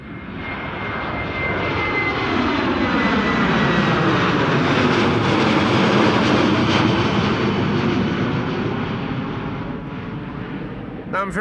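A Boeing 787-10 airliner taxis at Amsterdam Schiphol airport, its engines giving a loud, steady roar that swells and holds as it passes close by and then eases off, with no talk over it.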